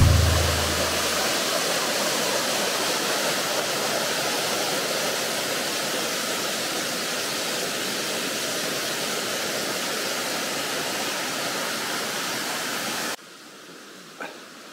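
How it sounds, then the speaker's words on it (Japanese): A waterfall on the Nihonmatsu (Kasumigajo) castle ruins in Fukushima pours with a steady, close, full-bodied rush that continues unbroken before cutting off abruptly near the end, with no voices present. "先進滝、"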